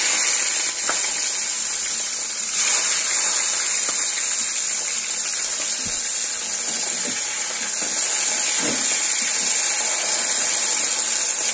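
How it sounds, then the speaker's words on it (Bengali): Half-boiled flat beans with black cumin seeds drop into hot oil, giving a loud, steady hiss and sizzle that fills the whole stretch with only small swells in intensity. "কালো জিরে ফোড়ন দিয়ে আমি সিমটা ছেড়ে দিই।"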